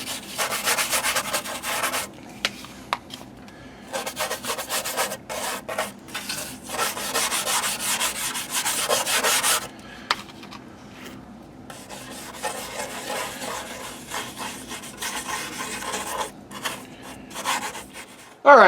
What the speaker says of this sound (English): I'm just going to start with the toothbrush here.